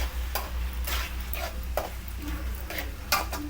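Squid thokku sautés in oil in a pan, with a soft background sizzle broken by intermittent scraping strokes of a spoon, close and moderately loud.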